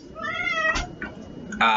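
A house cat meows several times up close, with drawn-out tonal cries and a louder final meow, over faint room noise.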